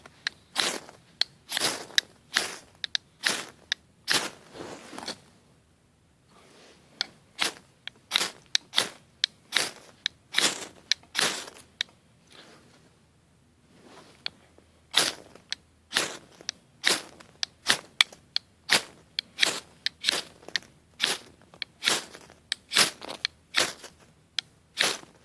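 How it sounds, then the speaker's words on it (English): The back of a knife scraping down a ferro rod in wet woodland, throwing sparks: sharp, crisp rasping strikes repeated in quick bursts with short pauses, close and clear with no talking. "I'm going to use the back of the knife. You know, it's got a pretty decent angle on it for getting a spark going off the ferro rod."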